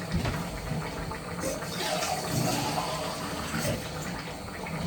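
Water swirled around inside an empty tinned tomato can while cooking moussaka, a close sloshing and trickling liquid sound that rises and falls over several seconds.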